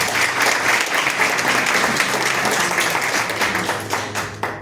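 A church congregation claps steadily throughout, a dense sustained round of applause that fades slightly near the end.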